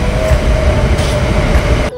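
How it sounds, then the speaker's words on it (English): A train rumbles past at close range on an early-morning street, a loud steady roar with a faint tonal hum, cutting off abruptly near the end; no one speaks. "Train is coming."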